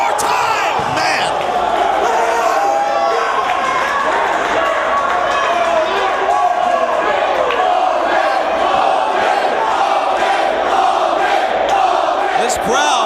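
A dense, steady roar from a Reality of Wrestling crowd at a Will Allday vs Brenden Steen match, with whoops and shouts held at a constant loud level throughout.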